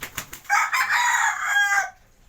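A golden Sweater gamefowl rooster gives one loud, close crow lasting over a second, preceded by a few short clucks.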